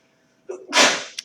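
A single sharp human sneeze in a classroom during a math review lecture, a short breathy intake followed by a loud explosive burst and a brief trailing catch, close and alone.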